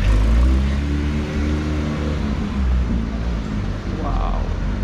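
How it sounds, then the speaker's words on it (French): A V12 car engine rumbles loudly nearby at a Monaco Cars & Coffee gathering, with a deep sustained growl and slight revving swells under a continuous low roar. "le son du V12, c'est insolent"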